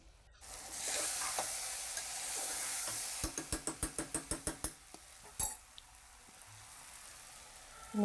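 Soaked rice is tipped into a pan of masala for a vegetable rice bath, starting with a loud hiss, then a run of about ten rhythmic scrapes and taps of a spoon against the pan before settling to a quieter sizzle.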